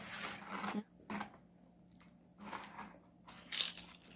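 Nacho chip being crunched in half, a few crisp, close crunching bursts separated by short pauses, quiet overall with no talk.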